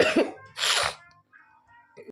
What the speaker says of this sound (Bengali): কথা বলতে পারছি না এত কাশি হচ্ছে